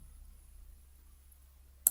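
A single sharp mouse click sounds near the end, selecting the highlighter tool in a reading lesson, after near silence.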